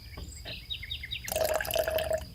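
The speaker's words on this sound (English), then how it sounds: "That was the sound of me pouring your tea right by your ear." Tea poured from a teapot into a cup close to the ear in a soft-spoken maid roleplay setting, a steady trickling stream lasting about a second after faint clinks and small handling sounds.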